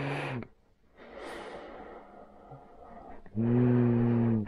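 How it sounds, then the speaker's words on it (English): Breathing through a Trend Stealth half mask, its exhalation valves vibrating with a buzzing rattle on the exhales, two strong close bursts bracketing softer airy breaths. "these valves, when they open, they vibrate"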